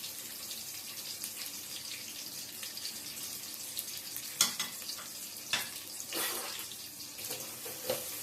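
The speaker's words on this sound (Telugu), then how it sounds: "ఈ ఆనియన్ బాగా గోల్డెన్ కలర్లోకి రావాలండి, అంతవరకు మనం ఫ్రై చేసుకోవాలి." Onions frying in about three tablespoons of hot oil for kichdi, a steady broadband sizzle running throughout with a few sharper stirring clatters and bursts near the end; no voices.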